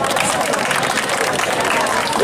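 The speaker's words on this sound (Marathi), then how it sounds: "ते कार्यकर्ते भाऊ आल्याबद्दल सगळे एक बार टाळ्या वाजून त्यांचं स्वागत करणार आहेत" A crowd claps steadily in welcome for a visiting MP at a Durga festival pandal gathering, dense applause filling the whole stretch at close range with some voices mixed underneath.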